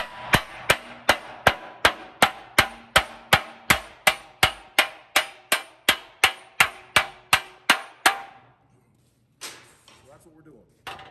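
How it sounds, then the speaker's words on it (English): Hammer blows on a car body metal panel being shaped for a coachbuilt custom car, about twenty sharp, evenly spaced ringing strikes, loud and close, then a few softer knocks and handling noises after they stop. "you want to use a hammer to put it on a flat spot"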